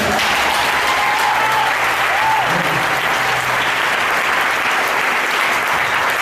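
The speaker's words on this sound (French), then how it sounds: "Est-ce qu'on peut l'acclamation?" A church congregation at a Sunday service breaks into loud, dense applause that fills the space, a continuous wash of many hands clapping without pause.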